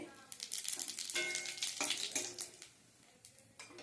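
Cumin seeds and a bay leaf crackle and sizzle in hot oil left over from frying fish, with bursts of spattering and light utensil clinks, fading toward the end.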